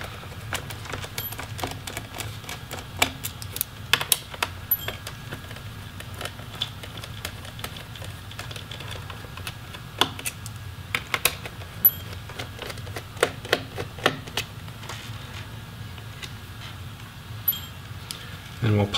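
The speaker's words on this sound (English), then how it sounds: "Looks like four screws retaining the hard drive caddy, so we'll go ahead and remove those." Small screws are backed out of the hard drive caddy of an Alienware 17 R4 gaming laptop with a screwdriver, giving a scattered run of light metallic clicks and ticks over a low background hum, while a voice talks at times.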